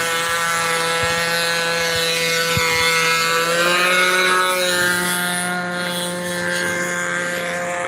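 A small high-revving model aircraft engine drones steadily at about 8,500 RPM with a sharp buzzing whine, its pitch shifting slightly as it runs close by, with no talking.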